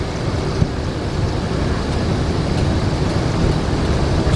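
A 50-year-old motorhome with its interior stripped out labours up a big hill, its engine a loud, steady, broadband roar with wind rush filling the cabin throughout.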